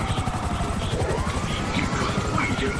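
Aircraft engine droning steadily in the video game GTA 5 during a motorcycle-gang police station assault, the plane smoking and damaged, with a continuous loud rotor-like hum throughout.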